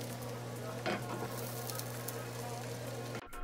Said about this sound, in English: Add your egg scramble to the pan and let it sit